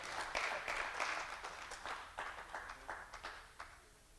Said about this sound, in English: Somebody give her a hand.